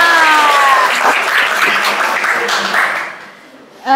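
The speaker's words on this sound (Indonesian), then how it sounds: "Tepuk tangan buat kita semua." Applause from a classroom audience at a teaching performance assessment: loud, dense clapping that fades away after about three seconds, then a voice starts speaking.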